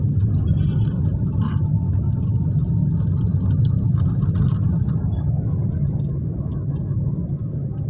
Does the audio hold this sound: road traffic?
yes